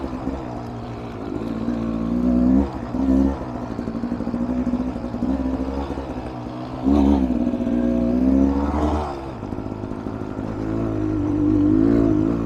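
Beta Xtrainer dirt bike engine on a test ride, a steady, loud motor drone with repeated swells as the throttle opens and eases, running on its own without talk.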